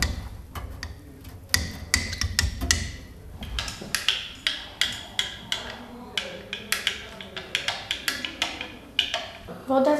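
A spoon stirs powdered kisiel dessert dissolving in a glass, producing rapid, steady clinks against the glass for about ten seconds. The sound is close and regular.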